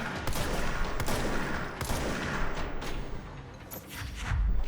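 Scattered gunshots and bursts in the video game Control, a run of sharp cracks and thuds over a dense, rumbling backdrop of combat noise.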